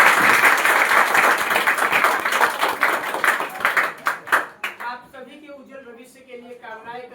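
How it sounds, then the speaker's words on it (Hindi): An audience at a student felicitation ceremony for Bihar Board toppers at a coaching centre claps loudly and steadily for a teacher, the applause thinning into scattered claps before a voice begins speaking. "सर के लिए जोरदार तालियां"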